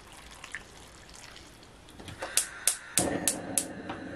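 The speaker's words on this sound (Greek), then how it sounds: "Λοιπόν, θα βάλουμε νεράκι" Water is poured into a cooking pot holding a skin-on pork shoulder, starting as faint drips and trickles, then a closer series of splashy pours and sloshes over the last two seconds, with no talk.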